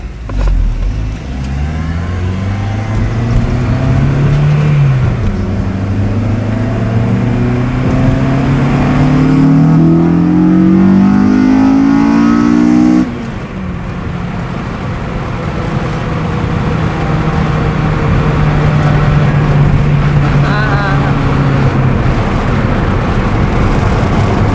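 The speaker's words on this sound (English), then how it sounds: "Let the car warm up a little bit and we'll go" A rebuilt Acura TSX pulls away and accelerates hard, its engine note climbing steadily through a gear change and then holding a loud, close, sustained drone with no talk.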